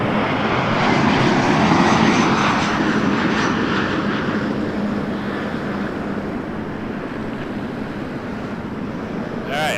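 A large airliner lines up on the big runway at Toronto Pearson Airport, its jet engines producing a steady loud roar that swells slightly then holds, with radio chatter faintly underneath.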